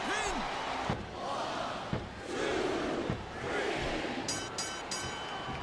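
A video game crowd cheers for John during a WWE SmackDown vs. Raw 2007 wrestling match. The arena roar is steady and muffled, broken by occasional slams and a commentator voice.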